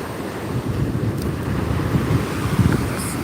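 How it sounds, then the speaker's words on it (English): Ocean waves wash onto a Florida beach with a steady broad surf rush, mixed with wind buffeting the microphone, no talking. "Just show you the waves."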